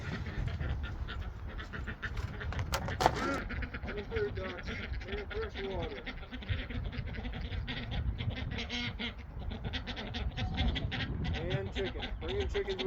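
Ducks quack repeatedly around a splash pad, nasal calls scattered over steady splashing water, while a person talks in the foreground.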